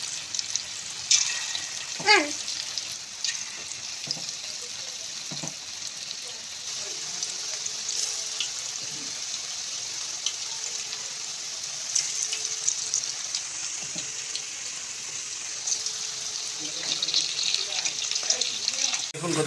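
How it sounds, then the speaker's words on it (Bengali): Marinated chicken pieces fry in hot white oil in a kadai, a steady soft sizzle and crackle with occasional sharper pops, close by, while a person talks intermittently over it. "ম্যারিনেট করে রাখা চিকেনের টুকরোগুলো এখন ভেজে নেবো"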